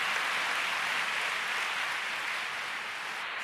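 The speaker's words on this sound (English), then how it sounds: "Give the Lord a big clap." A church congregation claps, producing a continuous, even patter of many hands that sounds somewhat distant and soft, steady for a few seconds before easing slightly.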